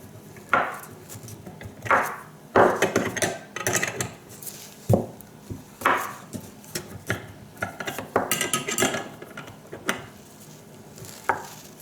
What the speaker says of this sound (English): Let's see if we can just do it with the old hand wrench first.